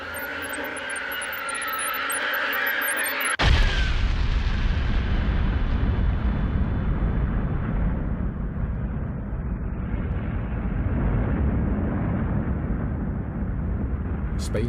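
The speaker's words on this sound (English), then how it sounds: "space itself exploded in a burst of radiant energy" A huge cosmic explosion depicting the Big Bang bursts in suddenly after a few seconds of softer tonal sound, then holds as a deep, loud, sustained roaring rumble.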